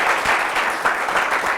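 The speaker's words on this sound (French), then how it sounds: "Je vous demande de vous applaudir très fort." An audience at a leadership event applauds, a short burst of full, dense clapping heard close and loud without any voices.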